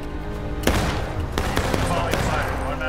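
Musket volleys in the Civil War line-battle game War of Rights, with a heavy boom of a massed volley followed by several sharper scattered shots against a constant rumble of battle. Voices talk underneath.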